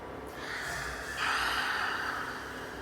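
One long, forceful breathy exhale during a Halloween-themed yoga session, voiced as a loud, roaring monster-like breath that swells in the middle and tails off, close and alone.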